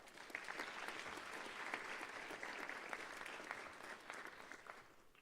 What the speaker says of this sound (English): Can we kindly give the minister one last round of applause?